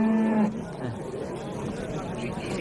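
A cow at a cattle market in Quvasoy gives one loud, close moo at the start, then the market's background murmur carries on.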